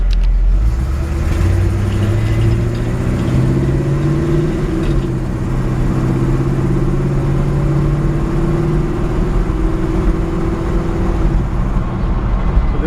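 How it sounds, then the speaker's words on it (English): A 1957 Chevrolet 3100 pickup with a crate 350 V8 drives along, its engine droning loud and close and rising in pitch as it accelerates through the gears, with steady road rumble underneath. "So this truck has a Crate 350 V8 in it, which runs perfect."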